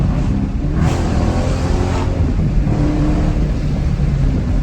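A car engine revs steadily and loudly close by after a misfire repair, a sustained smooth drone with a couple of brief swells and no stumbling.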